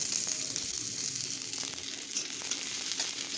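Whole spices for tempering sizzle in about two spoonfuls of hot oil for fried fenugreek greens, a steady close crackling hiss with small pops, with no talking.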